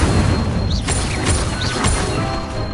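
A fire-spell blast in the Hogwarts Legacy video game, heard as a loud booming burst with crackling, whooshing flares that sustain throughout, dense and close with no talk.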